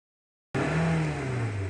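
A Nissan car with an idling and stalling fault cranks and fires after a brief silence, then settles into a loud, steady engine run with a low hum that gently drops in pitch, close by and alone.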